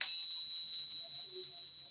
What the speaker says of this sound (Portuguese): Normalmente a gente começa e termina com um som de um sino, tá?